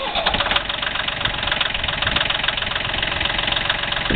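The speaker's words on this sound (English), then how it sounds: "Here we have a nice Yanmar 226D diesel tractor." A Yanmar 226D diesel compact tractor with a power-shift transmission runs at a steady, loud idle, its rapid even diesel knock close to the microphone throughout.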